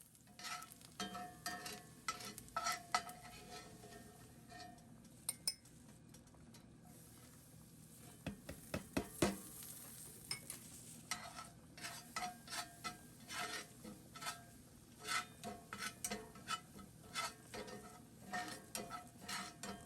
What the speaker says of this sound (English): I've basically browned this flour until it looks about right to me